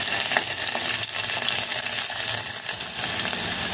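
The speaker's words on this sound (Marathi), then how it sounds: "लगेचच लसूण घालायचं आहे. मिरची देखील घालायची आहे, म्हणजे लसूण आणि मिरची दोन्ही छान तळले जातील." Garlic and green chillies fry with cumin seeds in hot oil for kokum sar, giving a dense, continuous sizzle and crackle close up. Faint stirring scrapes run through it, and no one speaks.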